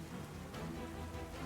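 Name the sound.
rain weather effect in a Pokémon video game battle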